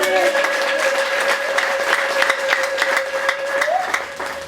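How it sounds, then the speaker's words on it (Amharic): Church congregation applauding during an Ethiopian sermon, steady loud clapping from a large crowd throughout, with a sustained tone and a voice over the applause. "ስለዚህ ጌታ አጨብጭቡለት።"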